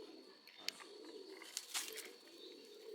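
Madrasi pigeons coo softly in a low, steady murmur, with a few sharp clicks and faint chirps over a quiet background.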